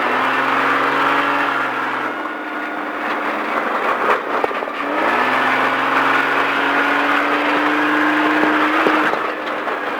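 A sports car at Speed Vegas accelerates hard around a race track in Las Vegas, its engine note climbing steadily, easing briefly, then rising again loud and close throughout.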